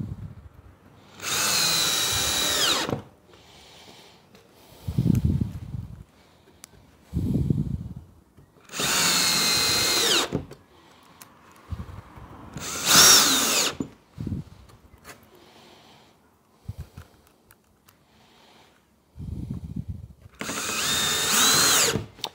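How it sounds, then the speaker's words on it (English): A power drill drives screws into a wooden barn-style sliding door, with several separate loud whirring bursts of a few seconds each, broken by quieter pauses and clunks of handling between them. "So we'll get all these screwed together"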